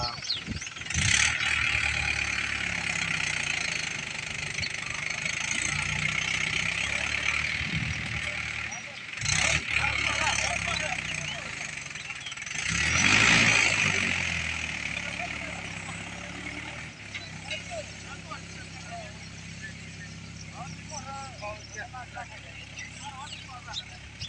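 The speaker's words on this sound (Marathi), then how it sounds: "ट्रॅक्टर आणि ट्रॅक्टर रवत आहे वल्यामध्ये बाहेर निघायला येणार ट्रॅक्टरला" A tractor engine revving and labouring nearby while stuck in a wet field, surging louder in bursts while people talk over it.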